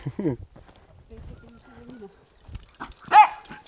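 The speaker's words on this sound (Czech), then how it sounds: "Ach, to je pes, no, to není pejsek." A dog gives a short bark, then a person talks, and the dog barks again more loudly near the end.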